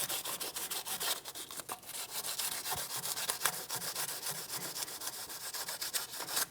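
Sandpaper scrubbing crust off the parking brake shoe contact points on an Infiniti G35, quick close back-and-forth rasping strokes repeating continuously.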